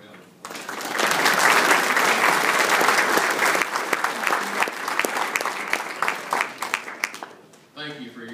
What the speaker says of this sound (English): Let's kind of give these folks a round of applause.